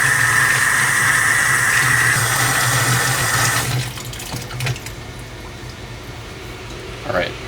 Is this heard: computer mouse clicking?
no